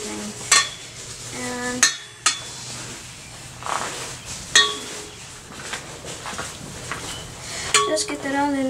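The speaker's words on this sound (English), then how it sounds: "Just get that all in there and just kind of stir it up for a minute." Fluffy slime mixture being stirred in a bowl, with repeated sharp clinks and scrapes of a utensil against the container at an uneven rhythm, close and fairly loud over a soft background hum.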